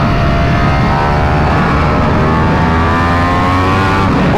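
A 2023 Ducati Panigale V4 sportbike accelerating hard down a straight, its loud engine note climbing steadily through the revs in one continuous pull with no talking.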